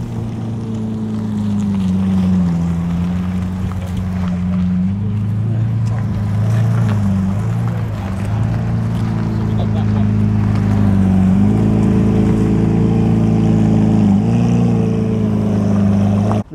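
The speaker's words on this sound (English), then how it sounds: "just coming along now into the actual aerodrome area, we've got an Aventador SV in what looks like matte grey." A matte grey Lamborghini Aventador SV drives into an aerodrome area, its engine giving a steady, loud droning hum with shifting pitch as it rolls along, under talking.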